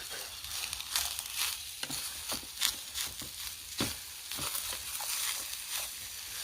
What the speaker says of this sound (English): just that sizzle alone makes your stomach go.